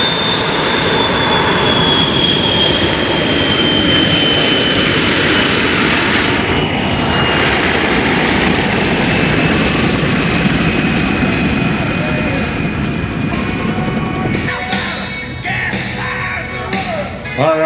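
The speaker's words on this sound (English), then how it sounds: "we're going to welcome Mark Cizzolino in the L-29. Give you guys a little jet noise" An Aero L-29 jet roars loudly overhead at an air show, a sustained engine rush with a whining tone that holds steady and then shifts as it passes, with an announcer's voice faintly beneath.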